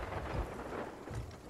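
Steady rain and storm noise in the Sea of Thieves game, a dense broadband wash with low rumbling swells like distant thunder, continuous and fairly loud throughout.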